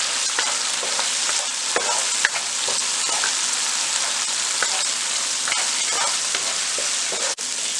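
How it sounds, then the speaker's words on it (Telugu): Curry powder frying in thickened tomato gravy for a chicken curry, a steady close sizzle with occasional scrapes and stirs of a spoon, no voices. "ఒక 4 స్పూన్స్ కర్రీ పౌడర్ వేసుకొని ఫ్రై చేసుకోవాలి."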